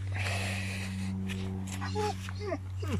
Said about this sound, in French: Une chienne, allez.